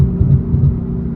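A BMW M4 engine gears down, giving a deep, throbbing low rumble that holds steady and close for about a second, with no talking over it.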